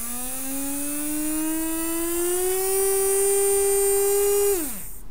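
Small DC motor driven through an L298N driver by an ESP32, a steady whining hum that rises slowly in pitch as it speeds up, holds, then winds down quickly near the end; close and alone, no talk.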